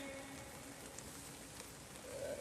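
Steady rain falls outdoors as a soft, even hiss of drops pattering on surfaces, faint and continuous with no talking.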